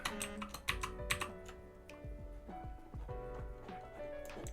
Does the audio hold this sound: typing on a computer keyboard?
yes